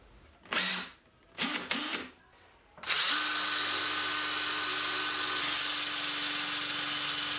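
A few short mechanical whirs and clicks are followed by a power drill with a square drill bit cutting into metal, a loud, steady high-pitched grind that holds for several seconds.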